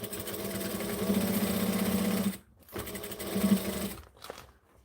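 A sewing machine stitches a half-inch seam in close, rapid runs, with a steady mechanical whir for about two seconds, a brief pause, then another shorter burst before stopping.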